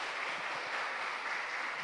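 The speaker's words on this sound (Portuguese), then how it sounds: "Pode aplaudir Jesus, aplauda mesmo." A church congregation applauds during a service, a steady wash of clapping at moderate distance with no voices over it.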